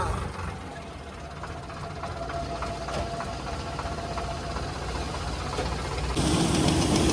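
An old tractor engine runs during the wheat harvest, a steady, knocking low rumble close by that grows louder in the final seconds.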